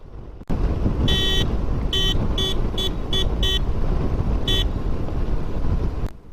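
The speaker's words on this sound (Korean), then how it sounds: "이거는 크락션 소리를 녹음하려고 한번 울려본 건데요" A Harley-Davidson motorcycle horn sounds in a series of short honks, one longer blast and several quick taps, then a final toot, all loud over a steady background rumble of traffic or wind.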